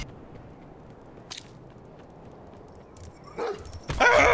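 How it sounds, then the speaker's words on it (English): A dog in Black Ops 4 multiplayer gives a few sharp barks and yips, faint at first and then louder near the end amid game noise, with no talk over it. "Fucking dog."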